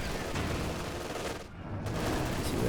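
Pintle-mounted machine gun firing in Company of Heroes 2, a dense rattling stream of battlefield gunfire with a brief dip partway through before the clatter resumes.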